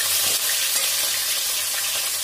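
Cumin seeds and green chillies fry in hot oil. A steady broadband sizzle runs close and loud throughout with no talk.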